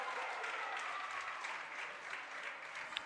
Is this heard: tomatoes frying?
no